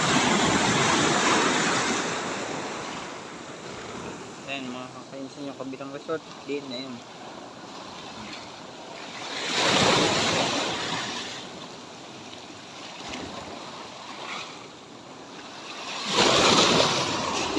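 Ocean waves roll and crash onto a beach in loud surges every few seconds, carrying away debris, with steady surf and wind between; someone talks over the sound.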